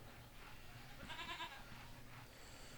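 Sheep bleat in the Railroad Tycoon II game, a short wavering call rising over steady background game music, moderately loud and alone with no talk.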